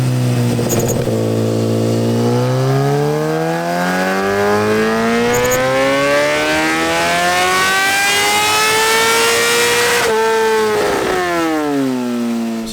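A 2019 Kawasaki ZX-10R engine screams through a full dyno pull, pitch climbing steadily for about ten seconds, then dropping off and briefly rising again, loud and close with no voices.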